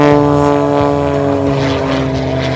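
An Extra 330LX aerobatic plane performs at a regional air show, its propeller engine a loud, droning buzz with strong harmonic tones, close and sustained, slightly fading over a couple of seconds with no speech.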